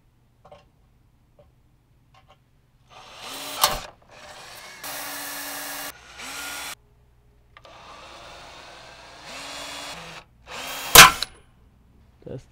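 A power drill whirs in several short bursts separated by pauses, close up, with a sharp clatter between runs, while fitting an LED grille light to a Dodge Charger.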